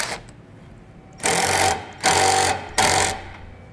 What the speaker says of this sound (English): We'll use a 5/16 nut driver